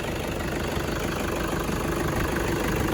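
A Toyota Hilux Tiger 2.5 D4D pickup's diesel engine idles steadily, a continuous low rumble with a faint knocking texture, close and constant throughout.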